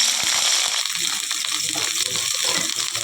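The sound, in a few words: cauliflower frying in oil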